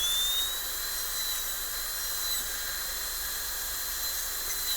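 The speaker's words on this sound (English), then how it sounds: "Safest to actually cut with the end of the burr." A dental handpiece burr cuts a Class II slot preparation in a tooth, holding a thin, steady high whine over a soft hiss at moderate distance.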